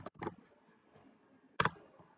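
Typing on a computer keyboard at a Linux terminal: two short bursts of close, crisp key presses separated by a quiet pause, with no voices.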